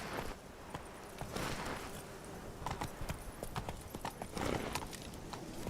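The horse Roach gallops in The Witcher 3, giving a steady, fast clip-clop of hooves at moderate distance with a faint whinny-like rustle, no voices over it.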